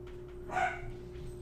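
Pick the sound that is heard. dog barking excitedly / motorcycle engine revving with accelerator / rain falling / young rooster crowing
dog barking excitedly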